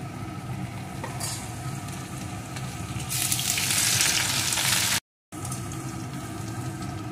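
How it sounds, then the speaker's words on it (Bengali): Ginger, garlic and chopped chilli fry in a pan for egg bhurji, a steady close sizzle that swells louder and brighter midway, then briefly cuts out before the hiss resumes. "আদা আর রসুন কুচিটা, এটাকেও একটু ভেজে নেব।"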